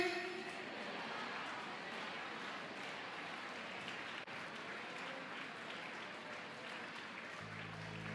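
A church congregation claps steadily at a sermon, a dense, continuous wash of many hands in a large hall that runs for several seconds before a low hum cuts in at the end.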